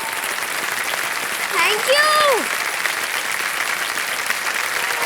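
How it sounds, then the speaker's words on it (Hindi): A studio audience claps on the TV quiz show Kaun Banega Crorepati Season 14, a dense, steady wash of applause lasting throughout, with a brief spoken voice over it midway. "एक बार जोरदार ताली बजाए"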